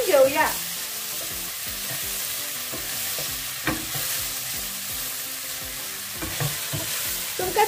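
Turmeric and Kashmiri chili powder are stirred and fried in a pan for butter chicken, giving a steady sizzle punctuated by repeated scraping and knocking of a spoon.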